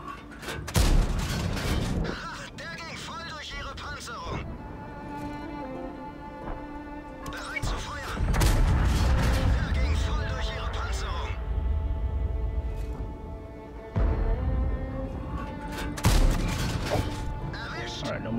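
Tank cannon shots in World of Tanks from a Leopard 1, heavy booms and thuds recurring over ongoing game noise and engine drone, with someone talking over much of it.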